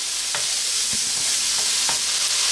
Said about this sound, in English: we're just going to stir that around for 1 to 2 minutes, or until the onions start to soften and the bacon starts to get a bit of colour